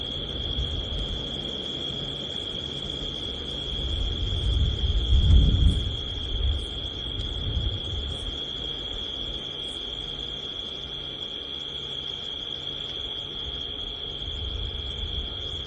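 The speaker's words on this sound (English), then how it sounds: "You can hear that cricket still going." A single cricket chirps steadily at sunset in the African wilderness, a thin high continuous trill that stays even throughout, with a brief low rumble partway through and no one talking.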